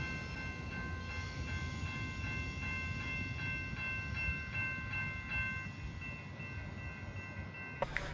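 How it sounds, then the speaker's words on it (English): A train pulling away from a station, with a continuous low rumble and rolling wheel noise plus a faint sustained tonal hum, and a couple of brief sharp clanks near the end. "I watched the train head off."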